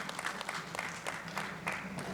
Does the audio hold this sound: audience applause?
yes